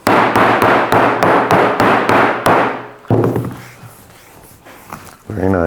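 A series of hard, sharp hammer strikes on wood, about eight in quick succession, loud and close, followed by a brief pause and a voice speaking.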